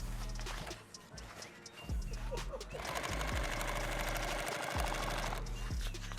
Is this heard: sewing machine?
yes